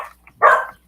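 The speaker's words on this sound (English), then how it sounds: "Harley's cue to start barking again" Harley the dog lets out a single short, sharp bark, close and alone.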